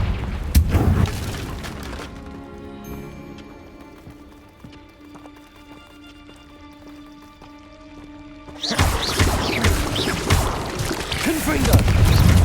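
A Confringo blasting spell in Hogwarts Legacy sets off loud explosive booms and rumbling at the start and again near the end. A quieter stretch with a tonal hum sits between them, and a voice is heard.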